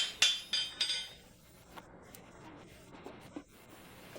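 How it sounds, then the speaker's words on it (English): A hammer shaping a horseshoe during horseshoeing, heard as three bright metallic strikes at the start, followed by quieter scattered taps and clinks. "the hammer he used to shape the shoe is heavier than the one he's going to use"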